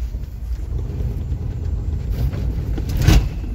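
Car engine idling along in fourth gear with no throttle on a ring road, a steady low rumbling drone with road and tyre noise inside the cabin, fairly loud and even, with a brief thump near the end.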